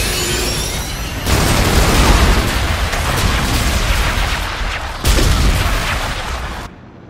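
Heavy bombardment explosions boom in a video game battle, with a dense, continuous roar of blasts and crackling fire that surges loudly around a second and again near five seconds before cutting off abruptly.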